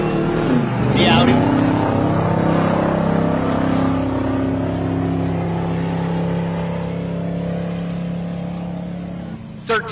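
An Audi race car on a drag strip accelerates hard, its engine note rising and stretching as it pulls away, with an announcer's voice talking over the roar.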